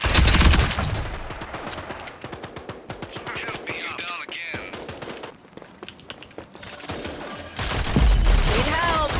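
Bursts of rapid gunfire ring out in the shooter video game Rogue Company, heaviest at the start and end, with quieter stretches of scattered shots and footsteps between.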